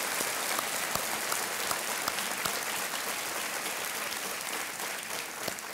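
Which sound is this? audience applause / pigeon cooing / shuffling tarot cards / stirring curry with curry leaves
audience applause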